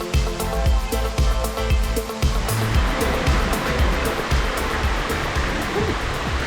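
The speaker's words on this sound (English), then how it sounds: "We're all the way at the very top of the pools in the waterfall." Water from a waterfall pours into rocky swimming pools in Shenandoah National Park, a loud close steady rush and splash, with some sharp clatters near the start.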